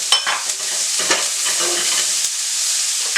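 Carrots, peppers, peas and onions stir-fry in a wok over fierce flaring heat, a loud continuous sizzle and hiss with occasional scraping knocks of a utensil against the metal.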